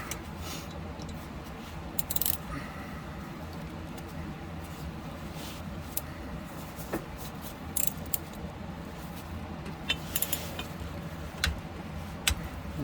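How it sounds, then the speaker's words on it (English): A torque wrench ratchets in sparse, faint clicks as it tightens the front driveshaft bolts on a 2004 AWD Astro van converted to 4x4, set against steady background hiss. "Got the torque wrench hooked up here."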